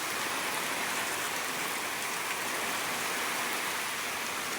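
Heavy rain pours down steadily, a dense constant hiss with no pauses and no voices.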